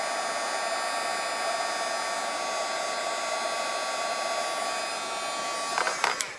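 A heat gun embosses powder on a stamped card, blowing a steady, close, loud whooshing hum with a faint tonal whine, ending with a few small clicks and knocks.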